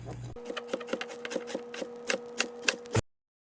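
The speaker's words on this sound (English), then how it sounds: "now I'm just going to slice through these the same way that I sliced through the mushrooms" A kitchen knife slices through shredded cabbage on a cutting board for chicken spring rolls, producing a steady run of about a dozen close, crisp chopping strokes that stop abruptly.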